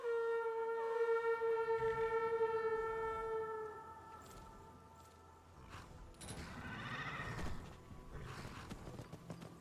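Hooves clip-clop at a steady gallop while a horse whinnies in the video game Skyrim, set against sustained game music tones, with no talking.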